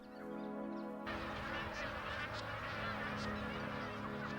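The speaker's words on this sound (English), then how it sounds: "as do the thousands of magpie geese that fly into Lakefield to breed" Many magpie geese honk together in a steady, dense chorus at Lakefield, a continuous flock clamor, with a narrator speaking over it.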